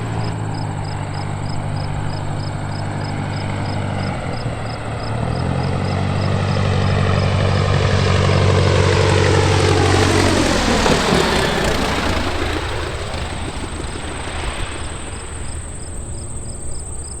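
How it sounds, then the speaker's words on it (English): A biplane's propeller engine drones steadily with a harmonic buzz, then rises into a louder pass whose pitch sweeps down as it goes by, with a faint insect-like chirping over it throughout. "Bonus points if you can tell me what kind of biplane that is."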